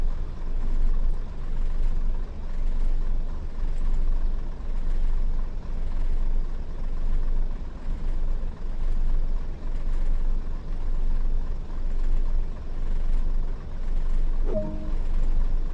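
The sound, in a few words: Class 101 train starting to roll, Train Sim World video game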